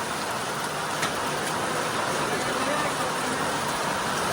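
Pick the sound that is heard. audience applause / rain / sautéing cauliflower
rain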